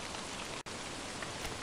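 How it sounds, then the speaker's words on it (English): Heavy rain in the survival game Don't Starve Shipwrecked pours down as a steady, dense hiss that fills the whole clip, broken by one sudden instant of silence partway through. "Maximum rain is horrible."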